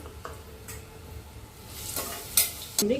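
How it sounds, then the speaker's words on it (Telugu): Onions frying in hot oil inside a pressure cooker, a soft steady sizzle with scattered stirring scrapes and a couple of sharper clinks of a utensil against the metal near the end. "ఆనియన్స్ యాడ్ చేసుకుందాం. ముందు ఇవి ఎర్రగా ఫ్రై చేద్దాం."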